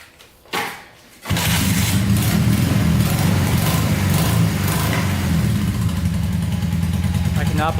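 A Honda trike engine cranks with a short whirr, catches and starts, then idles with a steady, loud, close rumble.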